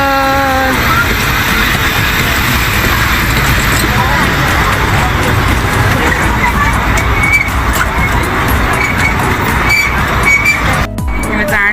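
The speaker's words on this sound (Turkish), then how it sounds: "Şimdi trenimiz gidiyor." A small kiddie train ride at an amusement park in Ankara rumbles along steadily amid loud crowd noise, with children and adults chattering and calling out throughout.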